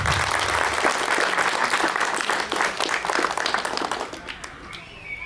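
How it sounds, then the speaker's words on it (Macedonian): An audience at a school end-of-year performance claps in sustained, dense applause close by, which gradually thins and fades toward the end. "Еден аплауз за нив"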